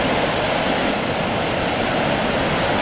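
A steady, broad rush of falling water from Faxi waterfall in Iceland roars continuously, full and unbroken, with no voices.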